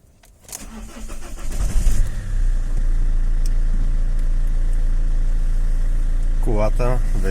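A car diesel engine cranks, catches and settles into a loud, steady idle after a glow plug replacement, with a close, continuous chugging drone. Someone speaks briefly near the end.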